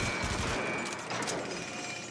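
Rapid bursts of video game gunfire crackle in a dense, continuous fusillade, loud and close, with no voice over them.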